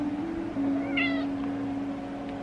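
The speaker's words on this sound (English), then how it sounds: "Look at this cat." A house cat gives a single clear meow near the middle, heard close and fairly loud over a steady low electrical hum indoors.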